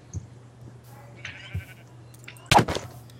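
A Minecraft sheep bleats in the game, a short, clear, nearby call standing out over a quiet ambient hum and faint game noises.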